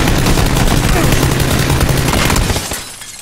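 Dense, continuous automatic gunfire from the video game Battlegrounds, loud and sustained for most of the moment before tapering off near the end, with voices faintly beneath.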